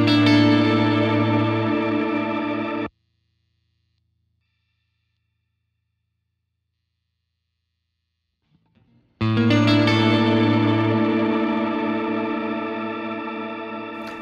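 Sustained, shimmering guitar chords through a Seraphim Shimmer v2 reverb pedal with long, bright, echoing tails, played twice with a few seconds of silence between.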